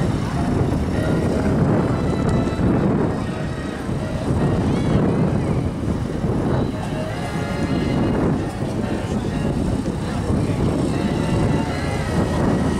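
B-25 bomber "Grumpy" rolling down the runway at an aviation day airfield, a continuous loud propeller engine drone that swells and eases over the span, with a voice talking over it.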